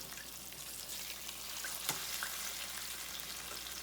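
Crispy pork chops fry in a pan with a continuous, fairly faint hissing sizzle that stays even throughout, with a brief tick partway through.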